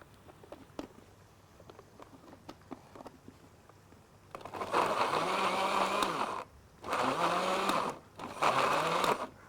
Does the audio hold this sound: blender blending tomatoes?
yes